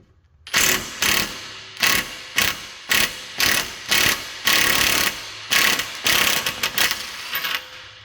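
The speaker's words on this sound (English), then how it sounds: "now gonna loosen this nut." Ratchet loosening a nut on a Mercedes-Benz CL500 front lower control arm, about a dozen loud, close bursts of rapid clicking in a steady back-and-forth rhythm, each followed by a short gap.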